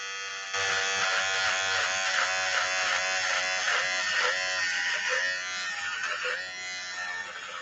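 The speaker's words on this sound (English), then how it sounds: "I need to genuinely shave it if I want to get it shorter." An electric clipper buzzes steadily as it shaves hair, switching on abruptly and holding a loud, close, whining hum with slight wavering as it moves through the hair.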